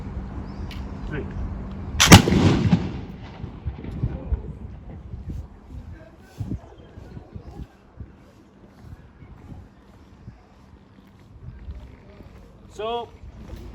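A historic naval gun fires once at a Royal Navy museum in Hartlepool, a single loud, sharp blast near the start that rolls into a decaying rumble and echo, with crowd murmur and voices around it.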